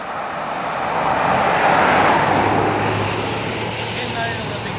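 A car passes along a rural stretch of road near Monroeville, rising to a broad swell of tyre and engine noise mid-clip and then fading, with a voice talking over it.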